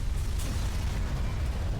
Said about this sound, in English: I'm just gonna shoot a missile, why not?